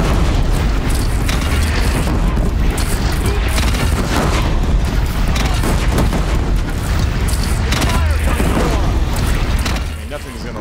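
Heavy cannon fire in Horizon Zero Dawn's final battle against a Deathbringer machine, with loud, continuous booming blasts and explosions over a dense battle din, tapering slightly at the very end.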